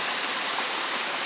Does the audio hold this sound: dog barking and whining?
no